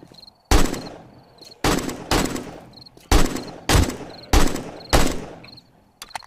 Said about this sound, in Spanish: ¿Cuántos tiros hay que pegarle a una cabra?